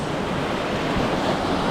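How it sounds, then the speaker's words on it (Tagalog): Continuous surf from ocean waves breaking on a beach in Quezon, roaring steadily and loud with wind buffeting the microphone throughout. "sunod-sunod yung alon kaya hindi kami makapunta"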